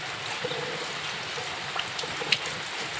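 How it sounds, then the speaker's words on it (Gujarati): A steady wash of rain keeps falling through a rural farm morning, a continuous hiss with scattered louder drips and patters, fairly close and unbroken throughout. "ચાલુ જ છે હજી વરસાદ"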